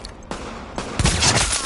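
Gunfire in The Division video game, a short burst of rapid sharp shots cracking close, layered over a noisy combat background.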